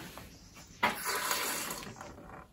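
Hot water running out of the small drain tap on a Rayburn Royal solid-fuel boiler during servicing, a steady hissing, splashing flow starting abruptly and continuing close by before easing off.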